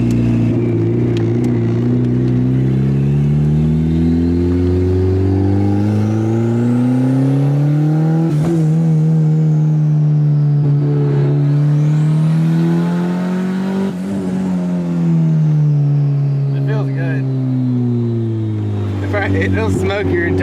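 A turbocharged Honda Civic engine fitted with a new eBay EMUSA turbo revs loudly and steadily for about twenty seconds, its pitch rising and falling through several swells, with voices talking over it now and then.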